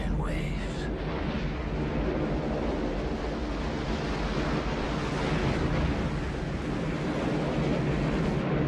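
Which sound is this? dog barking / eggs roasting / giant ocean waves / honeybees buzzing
giant ocean waves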